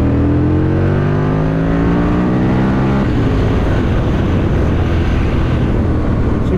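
An Aprilia RSV Mille Haga motorcycle engine revs up through rising harmonic pitches, then roars loudly and continuously, close and alone without talk.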